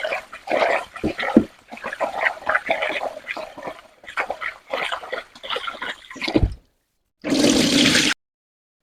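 Rice is rinsed by hand in a pot of water for tomato rice, wet swishing and splashing in irregular bursts, then a short pause and a louder rush of water being poured off.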